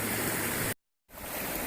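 Creek water rushing steadily at an Appalachian Trail crossing, a broad continuous wash heard close, cut off briefly by a short gap of silence before resuming.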